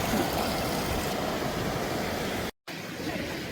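A rocky river in the northern Scandinavian wilderness rushes steadily over stones nearby, a broad continuous wash that cuts out briefly before resuming.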